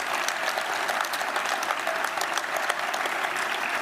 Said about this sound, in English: Please give them a round of applause and thank them as well.